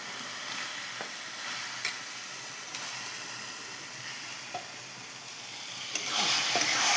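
Chicken pieces sizzle steadily in hot oil and spice masala, with a constant frying hiss and occasional soft scrapes of stirring, growing louder near the end.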